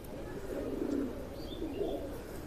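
Pair of pigeons cooing close by, two soft low throaty coos with faint chirps in a quiet background.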